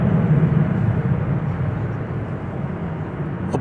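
A Boeing 777-300ER arriving from London Heathrow at Dallas Fort Worth airport gives a loud low rumbling engine drone that fades gradually over a few seconds, with no talking.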